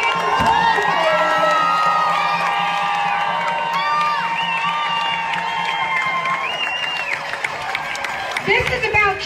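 A large outdoor crowd at a political speech cheers and shouts, loud and sustained whoops and voices layered together, with children shouting among them, holding for several seconds before thinning out.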